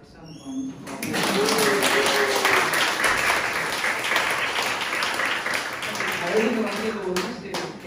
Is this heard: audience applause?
yes